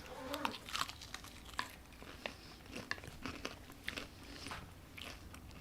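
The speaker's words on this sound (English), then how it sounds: "I'm not a loud chewer." Close, quiet biting and chewing of lemon pepper chicken wings, with soft crunches and wet mouth sounds repeating irregularly through a few seconds, no talk.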